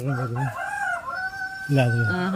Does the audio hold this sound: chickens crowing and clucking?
yes